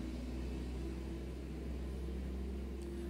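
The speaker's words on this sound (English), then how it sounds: "there's a loud sound outside. I think it's some form of a truck." A truck drives by outside, heard indoors as a faint, steady low rumble and hum that holds evenly throughout.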